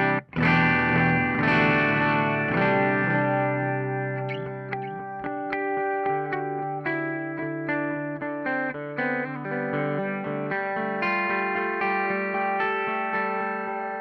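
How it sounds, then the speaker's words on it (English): Electric guitar played through a TC Electronic Flashback delay pedal on its 2290 analog delay preset, steady chords and single notes trailing into softening repeats that lose their top end, loud and continuous with no talk. "So we were on the 2290. This is the analog delay setting."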